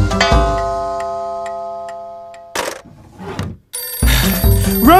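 A telephone bell rings loudly and close, a sustained metallic ring that fades out, followed by short noisy bursts and then another bright ringing tone.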